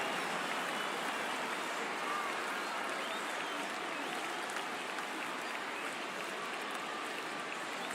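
Baseball crowd applauding at a season opener, a steady dense wash of clapping and cheering filling the stadium throughout with no pauses or distinct voices.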